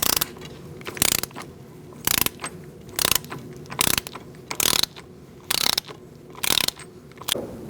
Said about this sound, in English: So now we're going to tighten up our axle nut.